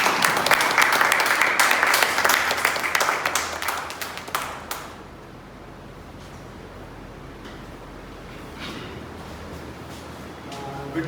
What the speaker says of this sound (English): could you please applaud?